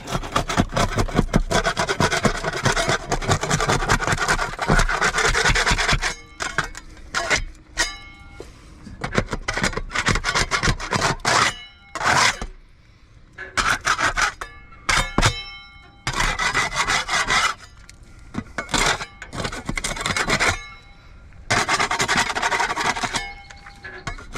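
Old paint being scraped off a surface with a hand paint scraper: repeated loud rasping strokes in irregular bursts, with short pauses and occasional clanks between them, and no talking.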